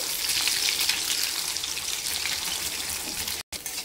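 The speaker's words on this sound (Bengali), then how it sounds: "নাড়াচাড়া করে ডিমের ভুজিয়াটা বানিয়ে নিয়েছি" Scrambled egg bhujia frying in a pan, a dense crackling sizzle heard up close and alone, steady throughout with a brief cut near the end.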